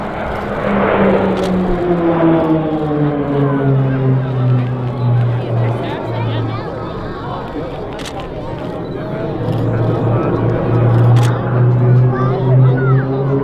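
RAAF Roulettes aerobatic aircraft fly an offset loop and fly past at RAAF Base Point Cook, their droning engines rising and falling in pitch beneath a loud announcer's voice and crowd chatter.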